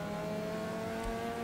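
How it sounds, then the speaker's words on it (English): Steady engine drone of a car in the Wreckfest racing game, a sustained mid-pitched hum with layered harmonics holding level throughout, with no talk over it. "I think I'm noticing new engine noises here on this car"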